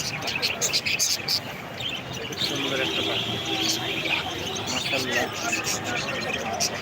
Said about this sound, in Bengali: খুব সুন্দর পাখিগুলো তাদেরকে দেখাইতেছি